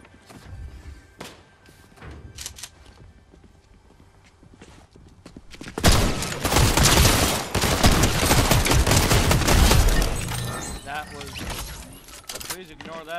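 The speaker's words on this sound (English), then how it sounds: "Someone just shooting me." Rapid bursts of gunfire in a Fortnite no-build battle, dense and loud through the middle of the clip, preceded by quieter game sounds and brief speech.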